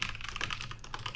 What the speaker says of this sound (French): En termes du niveau du clavier, voilà ce que ça donne.